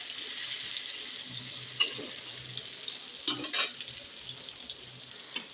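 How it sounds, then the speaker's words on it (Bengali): Bay leaves and a whole chopped onion frying in oil in a wok, a quiet steady sizzle with a few soft stirring knocks. "এরপর কড়াইয়ে যে তেলটুকু আছে আর একটু তেল দিয়ে আমি 2টো তেজপাতা আর কেটে রাখা একটা গোটা পেঁয়াজ ভালো করে ভেজে নেব।"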